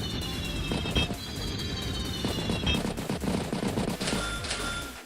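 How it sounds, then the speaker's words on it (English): Rapid machine gun fire aimed at Neo tanks in the Advance Wars video game, a steady rattling burst of repeated shots at moderate volume with game effects layered in, lasting the whole clip. "Even taking time to take multiple machine gun shots against the Neo tanks."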